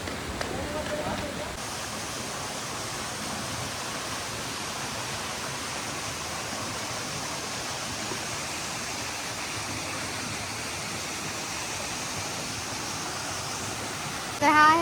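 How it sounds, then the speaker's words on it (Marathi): A small waterfall in Ekole Valley gives a continuous, even rush of falling water that fills the scene at steady loudness, with no talking over it. "बघा हा छोटा वॉटरफॉल आहे"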